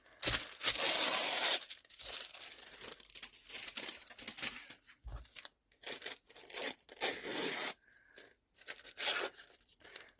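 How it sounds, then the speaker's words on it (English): Paper being torn by hand into rough-edged pieces for Christmas mixed media craft tags, with repeated close, loud rips and crinkling scattered through the clip and brief pauses between tears. "Just rip a piece."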